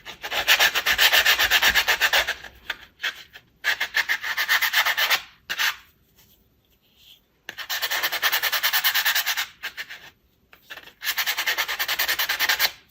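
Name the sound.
sanding glitter-coated acrylic keychain blank smooth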